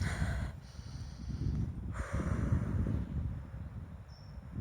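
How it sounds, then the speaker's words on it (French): Slow, deep breathing during a guided grounding meditation: a long airy inhale followed by an unhurried exhale, close and soft, with a faint hiss of room noise underneath. "vous allez inspirer et expirer profondément"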